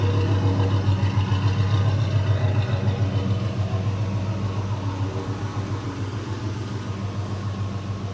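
A classic car engine idles steadily up close, a deep low rumble with a faint regular pulse that eases slightly in loudness over time, with no voices.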